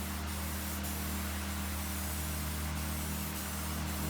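A spray can lays down a heavy coat of paint in body shop work, giving a steady, continuous close hiss over a low mechanical hum, with a few faint clicks and no voices.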